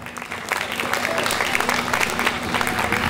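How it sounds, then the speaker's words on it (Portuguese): An audience claps steadily throughout, a dense wash of applause at a live stage performance, with a voice speaking over it. "Uma salva de palmas para eles aqui, gente."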